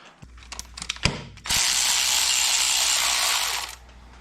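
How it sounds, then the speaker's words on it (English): A tool works bolts off the cover of a Can-Am Maverick side-by-side, starting with a run of sharp clicks and knocks, then a loud continuous whirring burst of about two seconds that cuts off, with no talk. "now we can take and start removing all these bolts"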